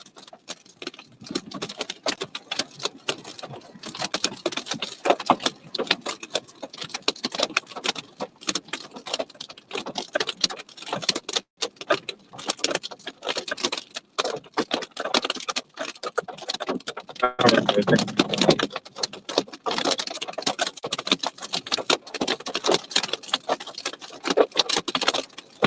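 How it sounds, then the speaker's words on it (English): Hail pelting a storm-chasing vehicle during a Colorado supercell chase near Raymer: dense, irregular rapid tapping and clattering that carries on for the whole stretch, briefly louder and fuller partway through, with no voices. "Full hail."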